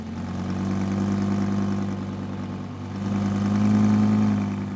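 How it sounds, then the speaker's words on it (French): An Audi R8 with a naturally aspirated 5.2-litre V10 settling into a cold-start idle, a steady deep engine hum that dips briefly and then swells louder again. "Ce qu'on aime, c'est le démarrage, juste le démarrage à froid, en cold start. Le son du V10 atmosphérique, il est juste magique"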